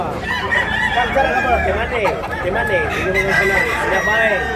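A rooster crows loudly and close at a busy poultry market in Tabunok, Talisay, Cebu, with several drawn-out calls overlapping amid clucking fowl and background chatter.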